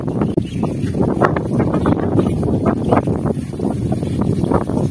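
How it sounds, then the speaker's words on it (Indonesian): Strong sudden wind buffets the microphone at sea during a diving hunt for old artifacts, a loud continuous roar with gusty surges and low rumbling throughout. "Tiba-tiba angin datang kencang sekali."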